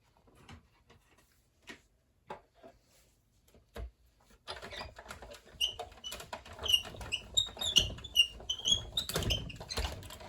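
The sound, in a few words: die cutting machine running, squeaking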